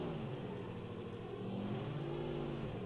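A car engine in the video game BeamNG.drive revs and whirs steadily, its pitch rising and falling slightly, fairly quiet and with no voices.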